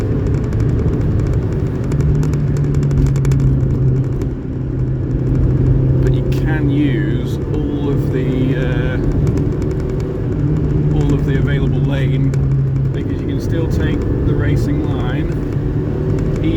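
A Suzuki Alto car driving along a narrow country road, with a steady loud engine drone and road rumble throughout, close up from inside the cabin, while someone talks over it.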